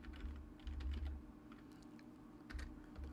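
Typing on a computer keyboard while entering text into a web browser: bursts of quick, close key clicks, alternating with brief pauses, no voices.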